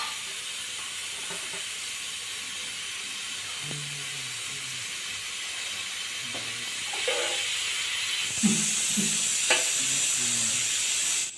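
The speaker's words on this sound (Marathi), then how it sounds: "एक तवा घेऊन बटर किंवा तूप लावून पाव भाजून घ्यायचा" Pav bread toasts on a buttered or ghee-coated tawa, giving a steady soft sizzle and hiss with occasional light scrapes and taps that grow louder and brighter near the end.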